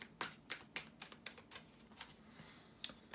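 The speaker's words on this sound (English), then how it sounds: "Man, I love these new cards. They just shuffle so nicely." Fresh tarot cards being shuffled by hand give a quiet run of soft, crisp riffling taps and flutters, roughly a dozen in an uneven rhythm, close and faint with no talking.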